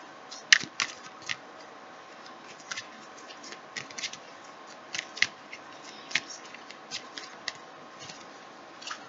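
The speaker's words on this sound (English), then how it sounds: "Just shuffle some more." Tarot cards shuffled by hand, with crisp irregular clicks and snaps from the deck scattered through a soft, steady rustle, close up and without talk.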